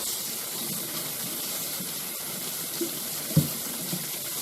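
Water pours steadily onto bags of brisket and boil-up ingredients, a continuous close hiss and splash with a few soft knocks near the end.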